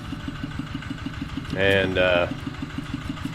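A tractor engine idles nearby at a pond with a steady, even chugging pulse, while a person briefly speaks over it.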